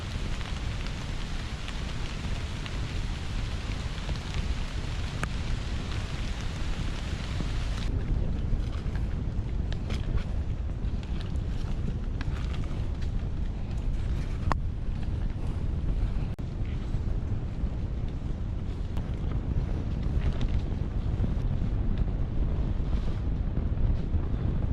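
Steady rain and gusting wind during a mountain trek up Bukit Raya in Central Kalimantan, a constant broadband wash that roars over the microphone throughout with no voices.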